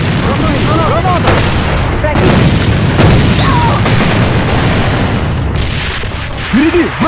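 Grenade blasts and battlefield gunfire in the online shooter A.V.A. Alliance of Valiant Arms, a constant loud mix of booms and shots with radio-style voice callouts over the top.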